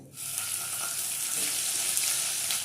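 Ginger paste hits hot oil already spiced with garam masala and bay leaf, a steady broadband sizzle that runs close and continuous for a few seconds, no voices over it, while a Bengali-style rohu fish curry is being cooked.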